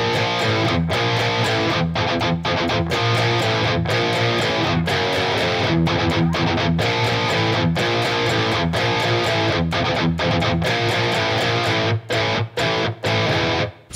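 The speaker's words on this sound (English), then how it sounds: "So obviously it's a bunch of palm muted low E gallops interspersed with some power chords." Distorted electric guitar chugs palm-muted low E gallops between power chords in a song, a loud, tight, driving rhythm with short choppy stops near the end.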